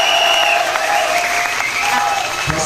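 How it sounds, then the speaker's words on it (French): Audience clapping for an author at a book event, a sustained round of applause close by, mixed with a voice speaking over it. "Je voudrais qu'on applaudisse encore l'auteur."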